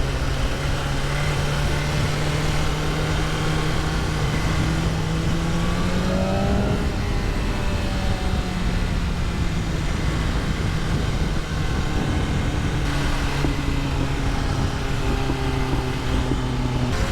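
A 2025 BMW S1000RR M Sport exhaust rumbles and burbles, engine pitch rising then dropping off into popping, crackling burbles as it decelerates, loud and close.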